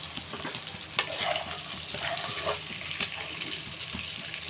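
Sliced onions go into a pan of frying silver fish pieces, giving a soft, close sizzle with a few light scrapes and clinks, one sharper knock near the start.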